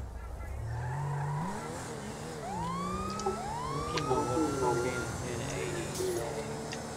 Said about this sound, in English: Your sirens were on.